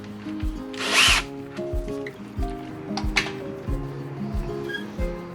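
A power drill with a 6mm bit whirs in short repeated bursts, starting and stopping in a stuttering rhythm, close by with faint clicks between.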